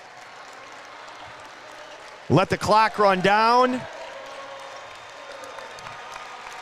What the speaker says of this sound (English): The crowd is up cheering.